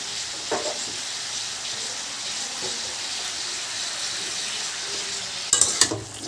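Eggplant pieces fry in a pan with a steady hiss, a few soft stirring scrapes, then a burst of sharper metallic clatter near the end.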